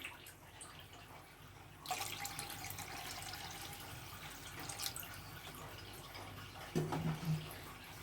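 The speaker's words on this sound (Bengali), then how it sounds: "এখন এর ভিতর দিয়ে দেব আমি পর্যাপ্ত পরিমাণ পানি" Water pours into a pan sitting on a stove over a medium flame, a steady splashing gush that starts abruptly and runs for several seconds, fairly quiet, with a small knock near the end.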